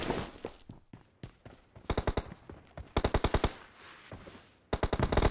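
Gunfire in the mobile game Battlegrounds Mobile India: close, loud bursts of rapid automatic shots in quick repeated volleys, separated by short pauses and scattered single cracks.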